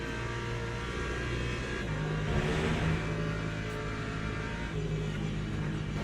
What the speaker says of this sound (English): And here comes hypercars.